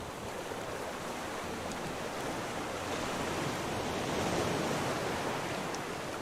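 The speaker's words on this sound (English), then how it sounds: "Some of these waves are huge." Steady broadband wash of ocean waves and surf in the survival game Raft, with a faint wind layer, continuous and fairly quiet with no distinct breaks.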